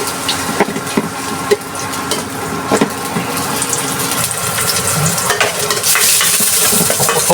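Chicken adobo with green beans frying in a hot pan, a steady sizzle with intermittent clatter of stirring, close up, the hiss growing louder and more intense toward the end.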